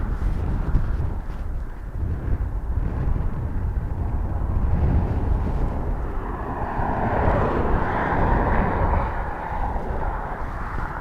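An aircraft on approach to Dublin Airport, a continuous low jet-engine roar heard from a distance that swells and eases over several seconds, with some wind rumble in the background.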